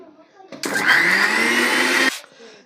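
A mixer grinder whirs loudly for about a second and a half as green chutney paste blends, with a sharp start and stop and a faint voice speaking just before and after.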